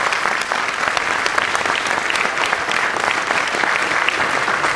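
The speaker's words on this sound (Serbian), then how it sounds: "molim aplauz za njih, Cvijeta" A theater audience applauds the directors of an amateur play in Bač, giving dense, lively clapping with crisp individual claps that stays steady for several seconds.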